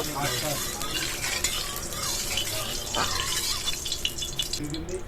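A spatula spreads oil around a hot wok, making a steady hiss with scraping and stirring strokes close by and a brief louder scrape near the middle; no talking.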